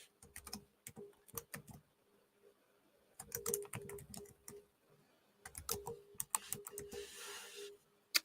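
Bursts of typing on a computer keyboard whose keys are sticky from a spill, with clustered, uneven clicks separated by pauses, close and fairly quiet.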